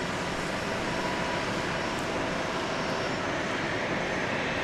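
A jet airliner takes off at Dallas Love Field, a steady broad roar heard from a parking garage rooftop, loud and unbroken throughout with no voices.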